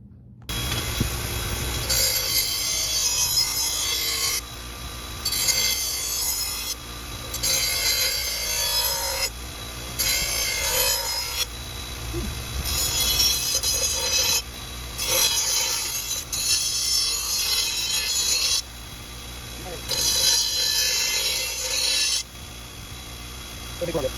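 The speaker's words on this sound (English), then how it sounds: "I'm gonna tackle this first blade and bring it back once I got it all completed as far as getting all this rust off." Scraping and rubbing runs in long strokes as rust is worked off a Cub Cadet LT42 mower blade, with loud gritty passes broken by short pauses, close and steady throughout.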